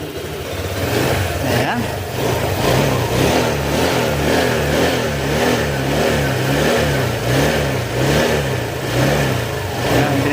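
A Honda Click 125 scooter with a noisy engine is revved during a diagnosis, its mid-pitched motor surging in repeated rhythmic pulses, loud and close, over a continuous running drone.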